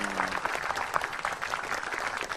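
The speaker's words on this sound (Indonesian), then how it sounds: "Tepuk tangan dulu untuk Anda semuanya." An audience at a stand-up comedy show bursts into steady, dense applause that fills the whole moment, with a brief voice trailing off at the very start.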